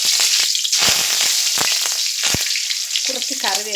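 Curry leaves dropped into hot oil in a frying pan, ahead of frying fish, give a loud, steady crackling sizzle throughout, with sharp pops and spatters and a faint voice near the end.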